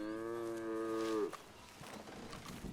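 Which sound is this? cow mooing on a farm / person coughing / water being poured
cow mooing on a farm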